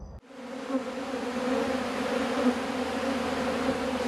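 Honeybees from an aggressive, queenless hive buzz in a dense, continuous drone close by, a steady hum swelling after a brief quiet start with no voices.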